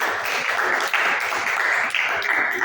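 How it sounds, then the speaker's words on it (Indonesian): Classroom applause for a student group after a presentation, dense continuous clapping from a group of students, close and fairly loud, with brief dips in intensity. "Beri tepuk tangan buat kelompok 1."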